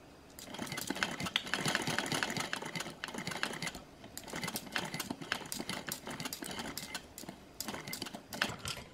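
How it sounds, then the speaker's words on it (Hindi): A sewing machine stitching a plain suit, running in steady rapid bursts of mechanical clatter with short pauses between runs, close and fairly quiet. "अभी हम दूसरा टांका भी स्टार्ट कर लेते हैं साथ के साथ"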